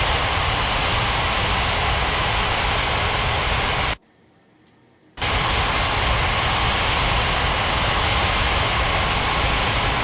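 A jet airliner in an air traffic control game roars on takeoff, a loud steady broadband engine rush that cuts out abruptly for about a second and then resumes at full strength.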